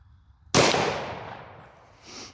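A single sharp, loud gunshot from a 1911 pistol chambered in .357 Sig, fired with DoubleTap 125-grain controlled-expansion ammunition at an outdoor range, with a decaying echo that trails off behind it.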